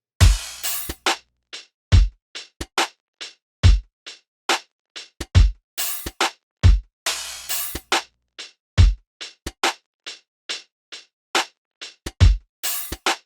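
Programmed boom-bap hip-hop drum beat with the kick dropped every third bar, sharp snare and hi-hat hits in a steady groove with occasional fuller low-end kick hits, loud and alone.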